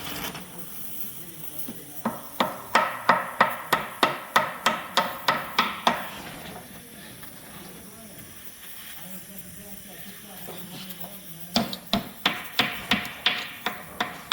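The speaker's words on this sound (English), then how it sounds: "Just uses ball peen hammer." A ball peen hammer taps a metal gasket in quick, evenly spaced strikes, two runs of about a dozen blows each, separated by a pause with a faint hiss behind.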